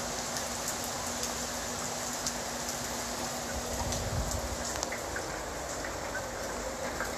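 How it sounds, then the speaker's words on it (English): Steady rain falling outside a home in Merida, Mexico, with a dense, even patter and occasional sharper drips, constant and moderately quiet throughout with no voices. "Yeah, it's still raining out, but it's okay."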